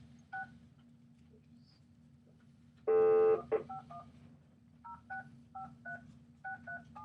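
Telephone dialing tones: one long tone, then a quick run of short two-pitch beeps keyed one after another, clear but fairly quiet over a low steady hum.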